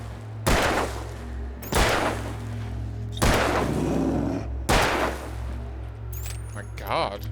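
Four loud, evenly spaced gunshots from the video game Alan Wake, each a sharp blast with a ringing tail over a steady low hum, followed by a brief metallic clatter.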